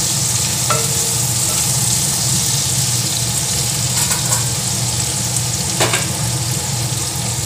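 Mutton kasha ingredients fry in hot oil and are stirred, giving a loud, continuous sizzle with occasional scraping clinks of the spoon against the pan.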